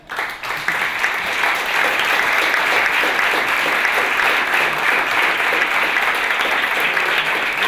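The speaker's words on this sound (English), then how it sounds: "let's applause for the next 10 minutes" Audience at a startup summit talk breaks into sustained applause that starts abruptly and holds loud and even for several seconds, with no voices standing out.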